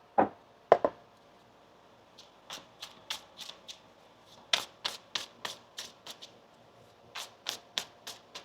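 Tarot cards being shuffled by hand, a series of short crisp riffling bursts in uneven clusters, close and fairly quiet against a hushed room.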